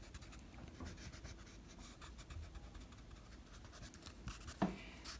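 An eraser rubs out pencil guidelines on a drawing of eyes, making faint, quick scrubbing strokes in an irregular rhythm close by, with a slightly sharper scrape near the end and no talk.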